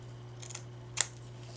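Scissors snip once through vintage lace trimmed for a handmade journal cover, a single crisp close cut against a steady low hum, with a fainter brushing rustle just before.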